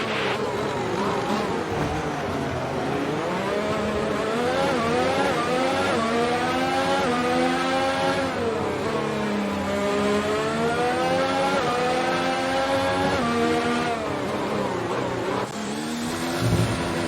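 A Formula 1 car engine in the F1 2019 video game screams continuously at Monaco, its pitch rising and falling with repeated upshifts and downshifts, loud and steady throughout.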